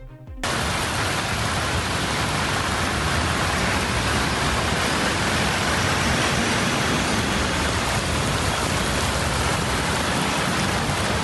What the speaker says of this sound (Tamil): டெல்லியில் பெய்து வரும் கனமழை காரணமாக குருகிராமில் சாலைகளில் வெள்ளம் பெருக்கெடுத்து ஓடுகிறது